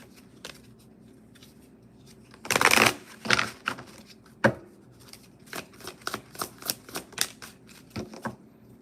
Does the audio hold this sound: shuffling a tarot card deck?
yes